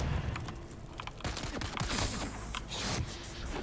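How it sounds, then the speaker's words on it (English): Video game gunfire in Dune Awakening: a fast, dense burst of shots and clatter running through the moment, loud and close, with no speech over it. "Stop shooting at me now, that'd be great."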